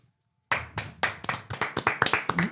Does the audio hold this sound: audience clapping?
yes